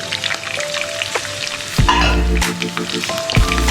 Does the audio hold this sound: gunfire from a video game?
no